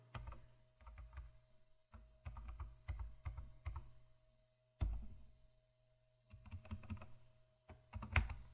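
Rapid typing on a computer keyboard while writing Python generator code, with bursts of close key clicks separated by short pauses and no talking.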